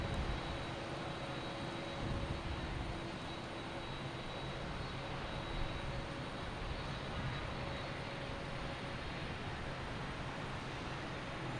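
A JetBlue airliner arriving from Richmond at Boston Logan Airport, a steady broadband engine roar held at an even, moderate level throughout, with no voices over it.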